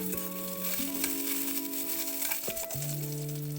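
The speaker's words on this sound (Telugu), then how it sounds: "ఇప్పుడు ఇదే ఆయిల్లో మనం వెల్లుల్లి, కరివేపాకు వేసుకోవాలి." Garlic and curry leaves fry in hot oil for a Rayalaseema-style pepper boiled egg curry, giving a steady, close sizzle that runs the whole time with a soft tonal hum beneath it.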